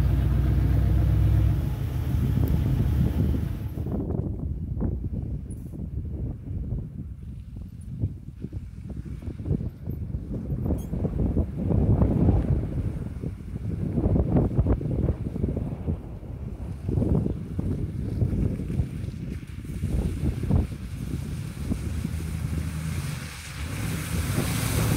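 A 1977 Oldsmobile ploughs through a large mud puddle while mudding, with a sustained rumbling rush of engine and sloshing water under heavy wind buffeting on the microphone for the whole stretch.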